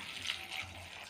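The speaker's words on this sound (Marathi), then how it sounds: "1 ग्लास पाणी टाकू" A glass of water poured into a pan while making cauliflower bhaji, a brief, faint, close gush of liquid lasting about a second, no voices.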